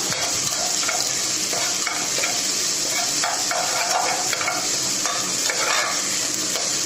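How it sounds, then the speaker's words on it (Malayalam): Sliced onions stirred into hot oil in a frying pan, with a continuous close sizzle and irregular scraping of a spatula against the pan, no talking. "അത് ആഡ് ചെയ്ത് കൊടുക്കാം. നന്നായിട്ടൊന്ന് മിക്സ് ചെയ്ത് കൊടുക്കാം."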